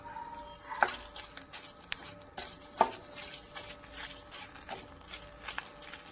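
Dried red chillies and salt dry-roasting in a hot pan, with a steady low sizzle, repeated scraping and stirring strokes, and occasional sharp clinks of a utensil against the pan, close and alone without talk.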